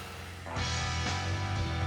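The 2.4-liter Kubota diesel engine of a heavy ATV idles and then rises sharply into a loud, dense, steady roar up close.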